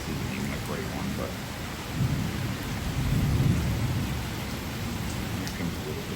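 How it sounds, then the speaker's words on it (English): A summer thunderstorm in Manorville with steady rain hissing on surfaces and a low rumble of thunder that swells in the middle and then fades back under the rain. "We got like 3 cracks of good thunder"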